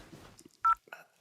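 A single short keypad tone from a mobile phone sounds in a dark room lit only by emergency lights. It is brief and clear, with soft rustling before and after.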